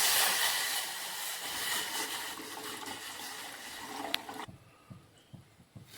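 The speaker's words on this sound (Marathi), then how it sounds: "गॅस चालू चुल्याच्यावर गमिलं टाकलं पाणी" Water gushes into a cooking pot on a gas stove in a continuous rushing pour that stops abruptly, followed by a few light knocks and clinks.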